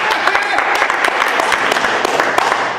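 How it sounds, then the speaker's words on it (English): Audience applause for a student athlete, a five-star recruit in football, basketball and baseball, introduced at a school event: steady dense clapping throughout, close and fairly loud, with a few sharp individual claps standing out. "Let's clap it up."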